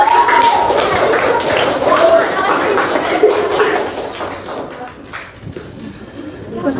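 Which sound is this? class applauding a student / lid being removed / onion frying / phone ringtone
class applauding a student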